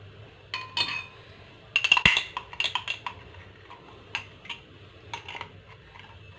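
A spoon scrapes and clinks against a pot while scooping clarified butter for Moroccan chebakia, a few sharp metallic taps and scrapes spaced irregularly over a quiet background.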